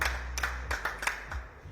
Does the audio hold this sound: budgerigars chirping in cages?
no